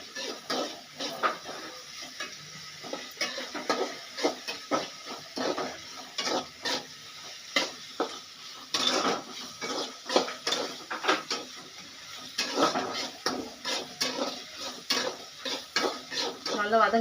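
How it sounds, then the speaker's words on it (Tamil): Onions sauté in a pan for a fish curry, stirred constantly so a spoon scrapes and knocks against the metal in quick uneven strokes over a low sizzle, fairly quiet and close. "வெங்காயம் நல்லா வதங்கட்டும்."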